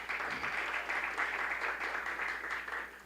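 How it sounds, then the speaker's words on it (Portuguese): Church congregation applauding for the music ministry during a service, a steady dense wash of clapping from many hands that holds throughout without pause. "o Túlio e o Ministério de Música, queria que vocês dessem uma salva de palmas para eles"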